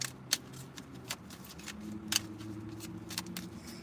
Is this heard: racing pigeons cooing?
no